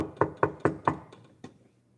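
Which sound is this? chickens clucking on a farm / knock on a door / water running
knock on a door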